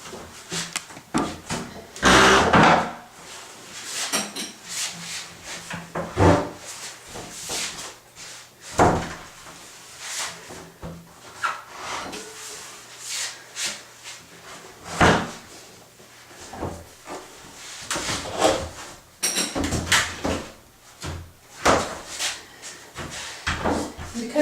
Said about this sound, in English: So we just slide our door into the opening